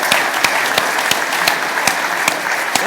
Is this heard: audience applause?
yes